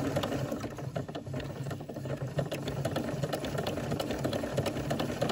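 Close and steady, a sewing machine zigzag-stitches a coil of fabric-wrapped rope. Its rapid mechanical chatter runs continuously through the whole stretch, with no talk.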